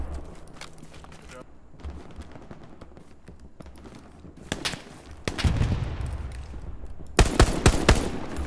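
Machine gun fire rattles in a competitive Hell Let Loose match, starting as distant scattered shots and building into loud close bursts near the end. Footsteps and a player's voice mix in with the gunfire.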